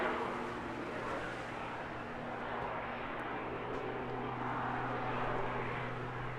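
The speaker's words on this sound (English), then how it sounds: "he really explores the envelope in this aircraft" Aerobatic propeller aircraft flying at an airshow, a steady, fairly distant engine drone that holds for several seconds with no talk.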